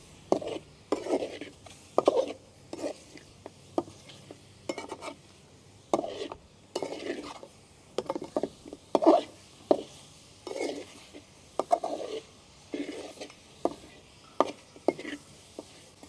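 Salted meat cooking in a pan, heard as repeated scraping and stirring strokes in an uneven rhythm, moderately loud and close, with no voices.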